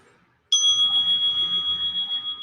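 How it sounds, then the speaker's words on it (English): A single clear bell is struck once and rings on with a sustained, slowly pulsing tone that fades gently. "As you hear that bell, it's just a reminder."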